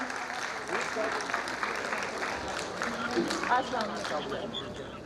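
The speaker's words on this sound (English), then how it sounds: "Maybe your claps can show that" Audience clapping at a school annual function, a steady patter of many hands under a speaker's amplified voice and crowd murmur throughout.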